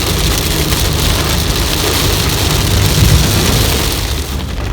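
Heavy rain drums loudly and steadily on a vehicle during a drive near Mysore, a dense constant roar with low rumbling underneath and no voices.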